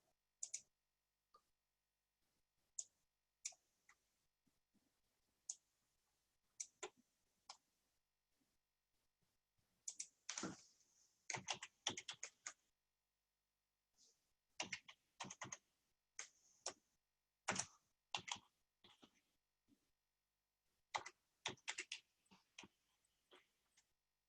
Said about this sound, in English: I'll see if I can also type that into the chat line.